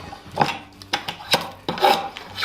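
A drawknife with a skewed blade shaves wood in a workshop, giving a series of close rasping strokes, roughly five scraping passes in quick succession.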